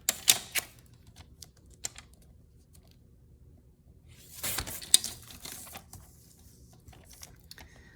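Scissors snipping folded paper off a gothic-style handmade journal, heard close and quiet as a few sharp cuts and crisp rustles with long pauses between them, then a denser burst of paper handling near the middle.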